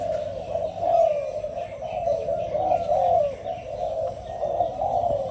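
A large dove gives deep, resonant coos in a repeated rhythmic series, loud and close, with faint chirps from other birds in the background.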